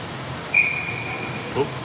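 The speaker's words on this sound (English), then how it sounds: "Oh, whistle." A referee's whistle at a 14U AAA youth ice hockey game gives a single sustained shrill blast, somewhat distant over low arena rumble and crowd murmur.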